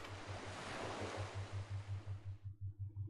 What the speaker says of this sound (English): The distinctive sloshing of water silences the group.